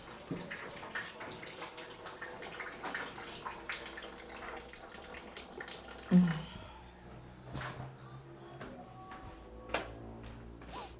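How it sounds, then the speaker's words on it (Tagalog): Water runs steadily from a tap and overflows, continuing as a constant wash under faint background sounds, then thins out with a bump and scattered drips as it is turned off. "i-off ko lang yung aking tubig kasi nag-overflow siya"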